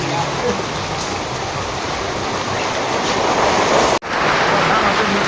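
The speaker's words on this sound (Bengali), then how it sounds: "এই যে আবার দেখা যায় বৃষ্টি ফোটা হাওয়া আবার বৃষ্টি নামতেছে" Rain falls in a village, a dense, loud, continuous hiss of steady rainfall that cuts off briefly near the end before resuming.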